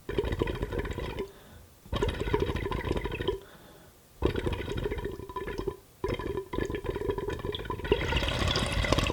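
B2 Reaper travel water pipe with a side-airflow downstem bubbling through water during a draw, in several close, steady gurgling bursts separated by short pauses.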